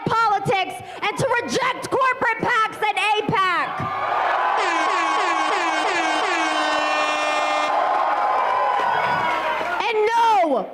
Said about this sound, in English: The air horn might be a little bit much.